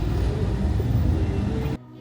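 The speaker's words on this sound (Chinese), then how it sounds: "这个时段都开始堵车了" Dense road traffic crawling through a congested street in Egypt, a steady low rumble of engines and tyres that holds loud for almost two seconds, then drops abruptly to a quiet background hum.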